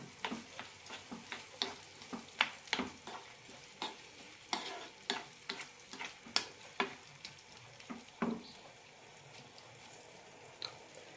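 A tomato pickle mixture with turmeric and salt cooking in a pan, stirred with a spoon: repeated soft scraping strokes over a faint continuous sizzle, close and quiet.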